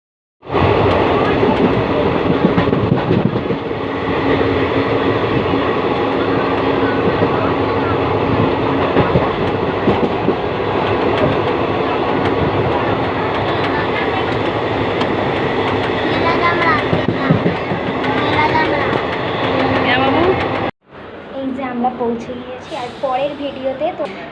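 A passenger train rolls along the rails with a continuous loud rumble and rhythmic clatter for about twenty seconds, heard from inside, ending abruptly; voices are heard over the noise.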